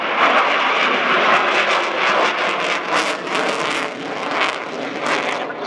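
A Polish Air Force MiG-29 Fulcrum jet fighter in a low flying display at an airshow roars loudly and continuously, a broad rumbling jet noise with gusty surges throughout.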